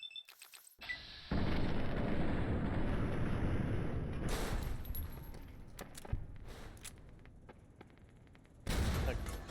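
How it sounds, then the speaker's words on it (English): Explosions in the video game Fallout New Vegas: a loud blast opens into a long roaring, crackling rumble that slowly fades, with scattered pops and a second burst near the end. "Like secondary explosion as well."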